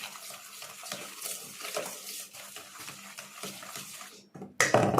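A spoon stirs milk into a mixture in a bowl for a no-cook sweet, giving a steady run of scraping clinks against the dish, close and fairly loud, with a sharper burst of clatter at the end.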